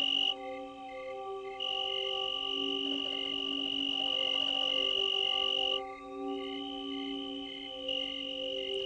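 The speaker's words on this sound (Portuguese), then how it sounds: "Grilos cantam suas canções roçando as duas asas." Garden crickets chirping by rubbing their wings together: continuous high-pitched trilling from several insects, steady and fairly close, with a layered pulsing drone and no voices.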